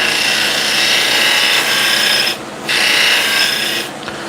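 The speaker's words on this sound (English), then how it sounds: "I just grab a spindle gouge and take away this." A spindle gouge cuts wood spinning on a lathe, giving a loud, steady broadband hiss and rasp that drops away twice as the tool lifts off and returns, close and with no talking.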